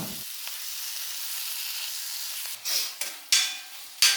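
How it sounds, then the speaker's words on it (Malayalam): A mixture with coriander powder and salt sizzles in a pan while it is sautéed for a Kerala padavalanga snake gourd curry, a faint steady hiss broken near the end by several louder stirring scrapes. "ലേശം ഉപ്പ് ഇട്ടു ഇനി ഇത് നന്നാക്കി ഒന്നുകൂടി വഴറ്റിയെടുക്കാം"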